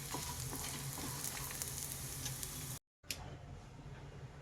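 Chili powder and dried red chillies fry in hot oil as a tadka for dal, a loud, steady, close sizzle that cuts out briefly near the end and then resumes more quietly.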